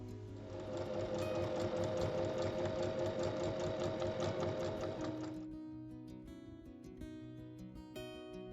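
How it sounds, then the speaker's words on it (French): Sewing machine stitching a fabric bag pocket, a close rapid mechanical chatter running steadily for about five seconds and then stopping, followed by quieter faint clicks and handling. "On replie comme ceci et on va piquer de chaque côté"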